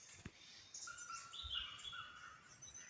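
Birds calling outdoors, a few thin chirps and short whistled notes, faint and somewhat distant over quiet background hiss.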